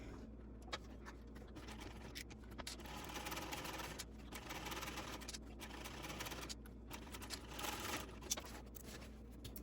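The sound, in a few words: sewing machine basting vinyl onto a bag panel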